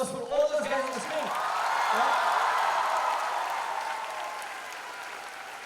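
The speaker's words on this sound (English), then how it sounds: "A huge round of applause for all those guys on the screen" Audience applause fills a hall at a student model-UN event, a crowd clapping steadily for several seconds with a few whoops, starting loud and slowly tapering.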